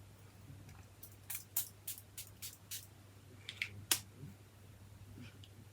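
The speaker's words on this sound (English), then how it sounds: "Let's just have a spray." Several quick, soft sprays from a beauty mist spray bottle hiss in a row at close range, short spritzes over a faint low hum.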